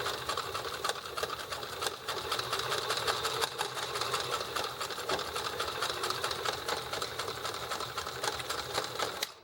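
A sewing machine stitches a bag with a crooked seam, running steadily and close up for the whole stretch with a dense, rapid mechanical rattle and a brief stop at the very end.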